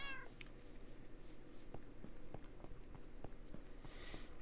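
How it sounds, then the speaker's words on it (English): A cat meows in the Minecraft video game near a fishing hut and dock, a short call early on with game ambience and faint clicks continuing beneath, then a brighter chirp near the end. "This is a cat that always tries to kind of steal the fish."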